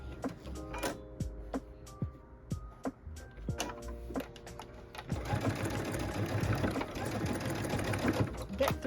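A sewing machine stitches through thick glasses case fabric, starting with slow separate needle thumps and then settling into a fast continuous whir, close, with a voice talking over it.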